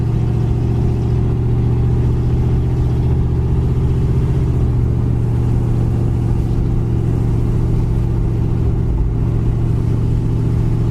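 A 1981 Pontiac Trans Am with a B&M ratchet shifter pulling along in first gear after a downshift, its engine droning steadily and loudly with a deep low rumble and no voices over it.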